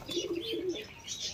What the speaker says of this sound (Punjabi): ਕਬੂਤਰ ਸਾਡੇ।